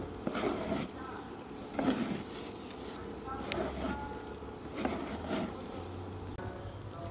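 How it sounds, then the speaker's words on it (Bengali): Rice grains fry in beef fat for tehari with a steady, soft sizzling hiss, broken by occasional stirring scrapes, while a voice talks quietly underneath. "আমি এখন মাংসের তেলে পোলার চালগুলো ভেজে নিচ্ছি"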